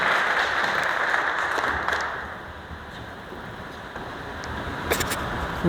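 An audience at a workplace Safety Day program claps together in a steady, dense wash of applause that eases slightly partway through, sustained and fairly loud throughout.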